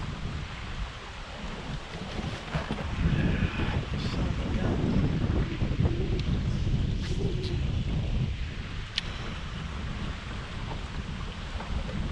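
Steady wind buffeting the microphone on a lake during a November cold front while jig fishing from a boat, a constant loud rumbling roar with gusts and a few faint knocks.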